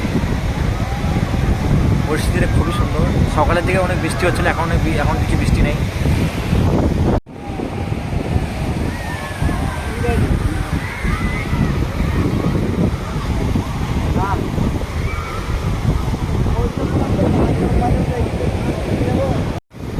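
Strong wind buffets the microphone as sea waves surge and break at Digha beach, a continuous loud roar under steady talk, with two brief dropouts.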